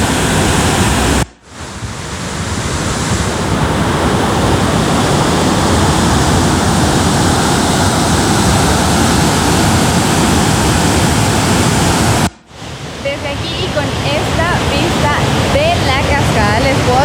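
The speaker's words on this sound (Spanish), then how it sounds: "Que es una cascada de 40 metros de alto" A powerful 40-metre waterfall, swollen after overnight rain, thunders in a constant, dense roar, loud and close, with a brief cut partway through.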